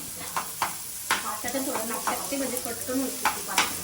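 Onion frying in a pan with steady sizzling under scraping stirs and a few sharp utensil taps against the pan, close up, while muffled voices murmur in the background.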